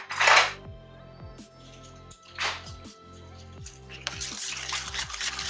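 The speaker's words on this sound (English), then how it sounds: "Let me whisk it really good." A whisk beating peach cobbler batter in a bowl, giving bursts of rapid, close scraping and clattering separated by short pauses, over a low steady hum of background music.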